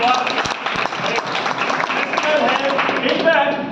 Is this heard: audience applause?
yes